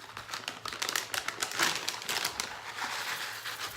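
Cacao nibs poured into a bowl, a quiet dry rattling and crinkling patter of small hard pieces landing in irregular bursts, close and faint.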